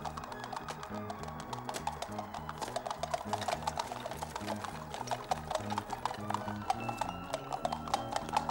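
Horse hooves gallop in a fast, steady clip-clop rhythm that keeps going throughout at moderate loudness, with no talking.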